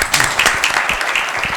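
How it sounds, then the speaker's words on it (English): Audience applause for speakers after a panel discussion on India's story, close patter of clapping hands with a few distinct nearer claps, brief and fairly loud. "Please give them a round of applause."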